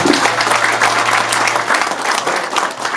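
An audience at a founding general assembly applauds a newly introduced guest, a dense, steady burst of many hands clapping close and loud for about three seconds, with a low hum beneath.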